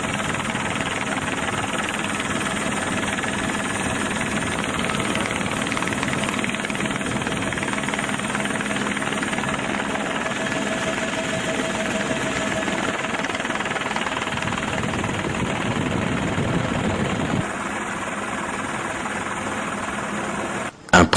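A helicopter flying above a river, its steady loud rotor and engine drone filling the whole stretch, continuous and close, with a slight drop in level near the end.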